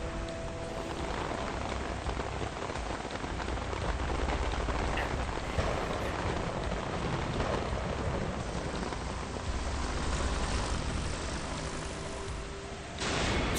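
Rain pours steadily in a stormy Metal Gear Solid 2 game scene with a helicopter, a continuous broad hiss with a low rumble beneath it and no voices.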